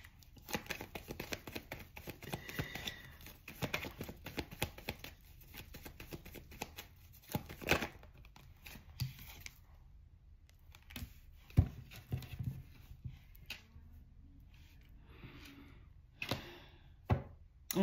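Playing cards being shuffled by hand at a tarot-style spiritual reading table: soft, quiet riffles and taps in irregular bursts, close by and faint, with no voices.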